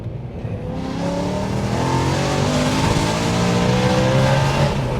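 A 449 bhp BMW M3 saloon with a manual gearbox revs hard from inside, its engine note climbing steadily and loudly over five seconds, the harmonics rising together toward high RPM.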